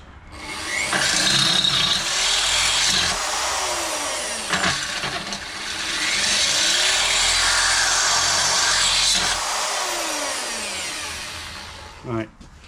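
A power drill drills out a thread in a Land Rover Discovery 3 thermostat housing, running steadily for several seconds, its whine rising and dipping with load, briefly pausing midway before stopping near the end.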